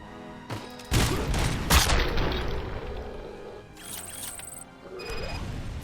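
Gunfire in the video game Robocop: Rogue City: loud, close shots and blasts in a quick burst near the start, followed by rumbling impacts and mechanical game effects.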